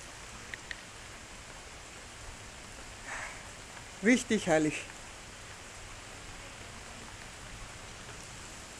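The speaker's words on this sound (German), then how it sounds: "Ja, richtig schöner Regen, den wir da haben." Steady countryside rain falling on a farm, a soft even hiss running throughout at a gentle level, with someone briefly speaking near the middle.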